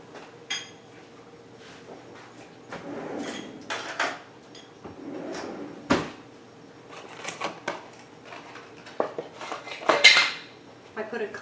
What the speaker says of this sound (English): I put a clean canning lid on it, just snug it down.